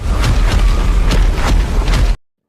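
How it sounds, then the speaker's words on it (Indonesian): A burst of spiritual energy explodes out of the Sea God pavilion in a fantasy anime, a loud, dense roaring rush with a few sharper surges, cutting off abruptly after about two seconds. "Energi spiritual Yuho kemudian meledak dan memancar keluar dari pavilion Dewa Laut"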